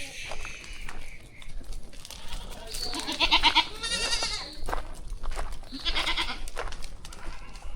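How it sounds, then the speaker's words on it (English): A large herd of goats in a rural community, several loud, wavering bleats near the middle and end over a busy outdoor background, with people talking nearby. "Whole lot of goats, guys."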